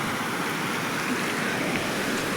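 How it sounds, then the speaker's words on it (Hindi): Glacier meltwater stream rushing under a bridge on the Himalayan trail toward Panchtarni, a steady, moderately faint broadband wash of flowing water with no breaks. "पुल में ग्लेशियर का पानी आ रहा है।"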